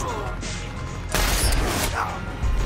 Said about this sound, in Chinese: 恶魔扣下扳机，一枪过去，面包车当场报废